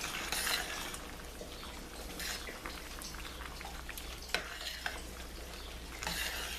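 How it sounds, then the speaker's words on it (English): Stirring a pot of fish and vegetable udon soup with snow peas and scallions: soft scraping and swishing with light liquid splashes and occasional clinks of a utensil, steady and close with no talking. "Give it a stir."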